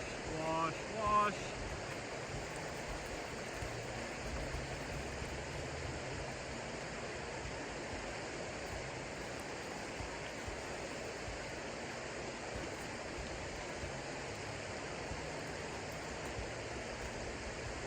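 A gold pan is swirled and washed in a stream at a remote site, the steady broadband rush of flowing water filling the whole stretch, with a brief splash near the start.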